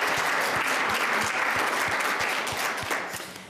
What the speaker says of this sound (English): how about a round of applause for our entire Topeka Police Department